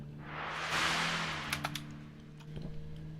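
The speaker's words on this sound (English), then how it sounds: "Isn't the thunder sheet so amazing?" Thunder sheet percussion instrument shaken once, a loud rising metallic roar that swells and fades over about a second, followed by a few faint rattles and clatters against a low steady hum.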